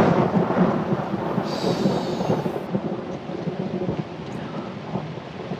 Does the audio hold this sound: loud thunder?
yes